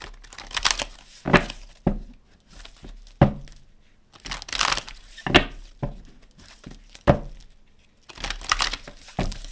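Tarot cards riffle and snap in bursts, a few shuffles separated by short pauses, close and crisp with no talking.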